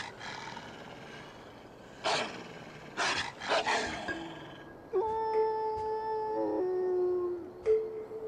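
Animal howls in the video game Tengami ring out as a few separate sustained cries, each a long falling wail, rising above a quiet forest backdrop with no talking.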